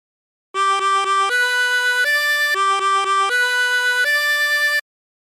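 La Cucaracha played on a 24-hole tremolo harmonica, with a bright wavering tone. Quick repeated notes alternate with held ones in a clear phrase, loud and close with nothing else around.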